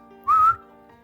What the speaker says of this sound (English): whistles and lifts a hand.